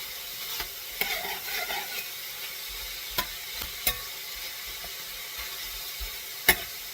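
Sticky pork sizzles and fries steadily in a pan as it browns, a continuous close crackle with a few sharp scrapes and clicks of stirring scattered through.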